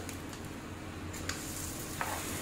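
Millet and pea tikkis being turned over in a pan, a soft, low sizzle with a few light taps and scrapes of the flipping utensil.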